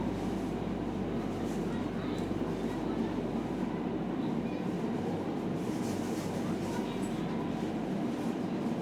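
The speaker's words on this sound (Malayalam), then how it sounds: "അപ്പം അങ്ങനെ ട്രെയിൻ ഇവിടെ നിന്ന് ഇറങ്ങി പോവാണ്." Vande Bharat Express on its inaugural Ernakulam to KSR Bengaluru run pulls away from a station, heard from on board as a continuous low rumble with faint rail clatter that stays even throughout.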